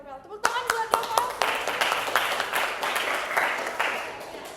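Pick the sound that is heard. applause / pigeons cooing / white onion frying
applause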